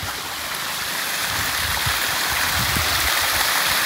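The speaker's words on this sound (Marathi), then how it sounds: "तर हे बघा, आवाज येतोय तुम्हाला पाण्याचा?" A small waterfall stream on the Naneghat trek in Maharashtra rushes and gurgles steadily, a close, continuous broadband flow of water with no voices.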